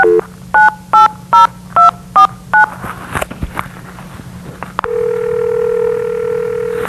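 A telephone keypad sounds six short, evenly spaced dialing beeps, followed by scattered clicks and then a steady, sustained line tone, close and clear.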